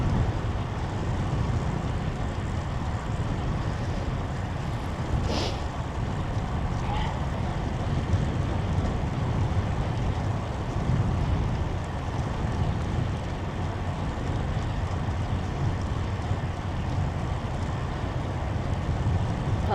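Strong wind buffets the microphone in a steady roar while cycling along the Han River in winter, continuous throughout with no voices.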